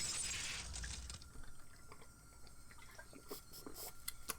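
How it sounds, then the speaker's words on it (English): Glass shattering sound effect from the Higurashi visual novel game: a loud burst of breaking glass at the start, followed by scattered crunching and clinking of shards, with no talking. "The unpleasant, piercing sound of shattered glass"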